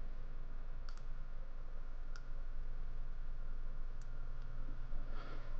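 Computer mouse clicks while dragging in SketchUp, a few sparse, sharp clicks spread over a quiet, steady background hum, with a faint rustle near the end.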